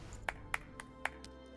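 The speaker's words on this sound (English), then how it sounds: "Why do you keep clapping?" Several short, sharp claps spaced irregularly, fairly quiet with a slightly electronic ring, game sound effects from Civilization 6 during diplomacy.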